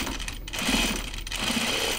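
Sewing machine stitching thick denim for a jacket, a steady close whirring run of rapid needle strokes that carries on without pause, with no talking.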